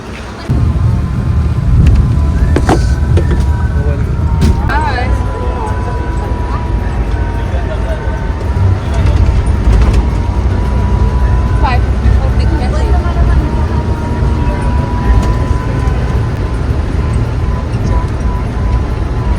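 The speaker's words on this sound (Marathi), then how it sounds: "आम्ही आता बस स्टँडला आलो आहे, कुर्ला ST बस स्टँड." Busy Kurla ST bus stand: loud steady rumble of idling buses and traffic with wind buffeting the microphone, scattered clanks and horn-like tones, and people talking throughout.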